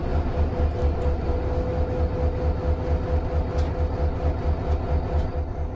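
Metrolink train on the San Bernardino Line in Train Sim World 5, a loud, steady low rumble with a pulsing rhythmic throb of wheels and engine, heard alone without any voices.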